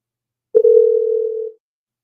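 A single steady electronic ringing tone from a telephone line, sounding for about one second with no talking.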